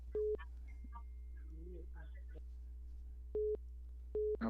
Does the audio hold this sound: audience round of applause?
no